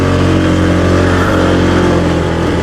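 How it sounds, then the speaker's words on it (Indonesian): A motorcycle climbing a long winding uphill road toward Puncak 2 via Jonggol, its engine droning loud and close under strain, a steady throbbing hum throughout with no talk. "Ini motor masih fit loh, teman-teman."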